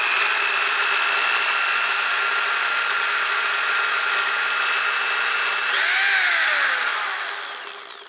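A power drill spins a gear-drive tachometer under repair, a steady loud whine that rises in pitch as the drill revs up, then winds down near the end; no talking.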